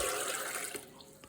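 Water pours steadily onto dried chickpeas that have soaked for over twelve hours, measured at 600 ml in a three-to-one ratio; a short, close, splashing stream that tapers off near the end.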